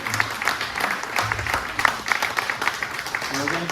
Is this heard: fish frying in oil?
no